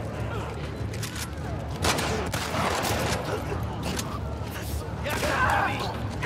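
Gunfire in The Last of Us Part II, a few sharp shots and clattering mechanical noises during a tense fight, set against a steady background and a voice speaking over the action.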